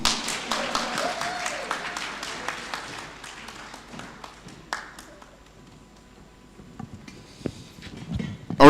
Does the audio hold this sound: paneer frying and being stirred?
no